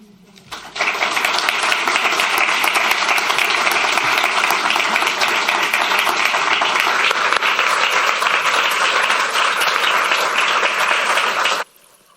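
An audience breaks into applause after a talk, a dense, steady wash of clapping that starts abruptly, holds loud and even for about eleven seconds, then cuts off.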